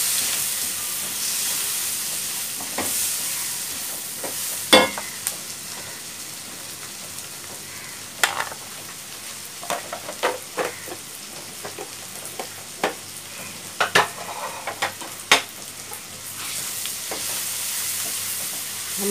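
Okra and onion curry frying in a pan with turmeric, red chilli and coriander powder, a steady sizzle and hiss broken by scattered sharp scrapes and clinks of stirring, close and alone.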